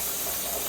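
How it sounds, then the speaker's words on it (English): Pressure canner weight rattling and hissing steam while canning pumpkin, a brief, dense, steady hiss heard up close and alone. "But I wanted to show you about the little rattle."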